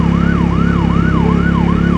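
A loud ambulance siren wails in steady rising-and-falling sweeps, about five cycles in two seconds, over a constant low vehicle rumble on a street, with no voices.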